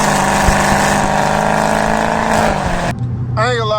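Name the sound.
catless Dodge Hellcat drifting around a corner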